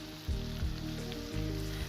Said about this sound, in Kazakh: Содан кейін бұндай қатты отта 2-3 минут пісіреміз.